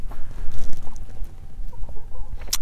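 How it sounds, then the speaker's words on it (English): Chicken clucking on a homestead, a few short soft clucks near the mic over a low rumble of background noise, with a sharp brief sound at the very end. "Hi, chicken."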